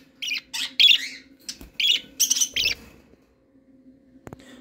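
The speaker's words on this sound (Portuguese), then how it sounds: "Essa periquitinha quer participar do vídeo" A caged budgerigar chirps in a quick series of sharp, bright bursts, close and clear, then falls quiet apart from a brief click.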